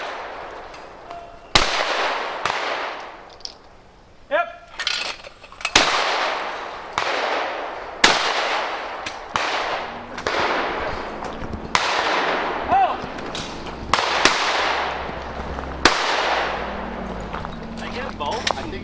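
Shotgun shots at a sporting clays shoot ring out one after another, about a dozen sharp, loud outdoor reports with short decaying tails, spaced a second or two apart, while people talk in between.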